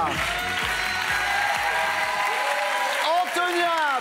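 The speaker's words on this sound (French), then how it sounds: "Applaudissements pour Antonia!" Audience applause for Antonia in a television studio, a broad wash of clapping mixed with music and voices, with sharp rhythmic hits in the first half that fade into a steadier swell.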